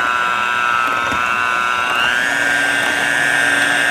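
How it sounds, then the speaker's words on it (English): A power blender beats thawed frozen yogurt with a loud, steady motor whine that holds its pitch, then steps up slightly partway through and keeps running evenly. "take your blender, and you're going to beat it for 2 minutes"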